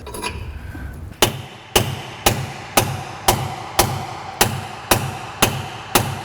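A hammer drives a new bearing race into an axle differential housing during a truck rear axle rebuild, giving ten sharp, evenly spaced metallic blows about half a second apart, loud and close, with no talk.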